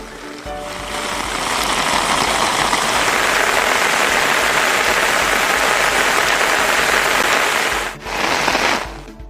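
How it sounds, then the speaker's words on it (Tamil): Heavy rain pours in Tiruvarur district, a dense, loud, steady hiss and patter that holds for about eight seconds, dips briefly, then carries on, with no talk. "திருவாரூர் மாவட்டத்தின் பல்வேறு பகுதிகளில் பரவலாக கனமழை பெய்தது."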